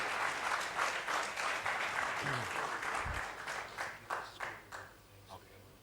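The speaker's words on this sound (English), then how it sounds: "Big round of applause, please." An audience applauds after a conference talk, dense clapping from many hands that holds steady before thinning into scattered, separate claps and fading toward the end.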